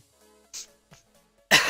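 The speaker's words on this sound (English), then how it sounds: "that doesn't count as a cough because that one was purposeful" A single deliberate, forced cough bursts out loud and close at the end, following a few faint throat and mouth noises in near silence.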